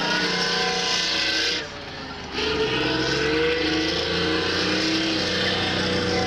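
A military tank's heavy engine roars loudly and steadily with grinding mechanical noise, a brief dip midway before the rumbling drive surges back.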